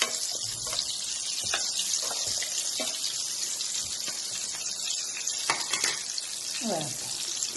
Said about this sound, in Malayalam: ഇതുപോലെ നമ്മൾ പൊരിച്ചെടുക്കാം.